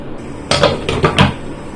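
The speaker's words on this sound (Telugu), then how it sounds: "ఇప్పుడు దీనికి మూత పెట్టి ఉడకనిద్దామండి" A metal lid clanks onto a pot of capsicum curry with a handful of quick, close knocks and rattles against the rim, then settles into quiet.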